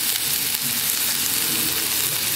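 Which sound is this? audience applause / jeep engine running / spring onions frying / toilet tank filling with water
spring onions frying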